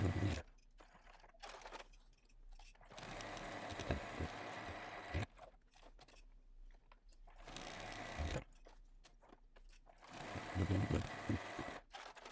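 A sewing machine stitches a luggage sleeve in loud rapid whirring bursts, separated by short quiet pauses, with some faint handling of fabric in between.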